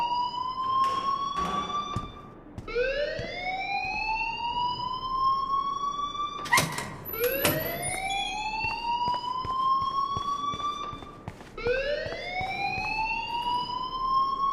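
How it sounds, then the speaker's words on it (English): An alarm in the video game Life is Strange wails in rising, siren-like sweeps that repeat about every four seconds, loud and continuous, with no talk over it. "please turn off that alarm since that's your job."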